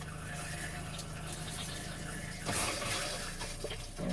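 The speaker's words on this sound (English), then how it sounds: "Then run your shower." Water runs steadily from an RV shower faucet being flushed with pink antifreeze during winterizing, a continuous rushing hiss that swells slightly louder partway through and carries on alone without talk.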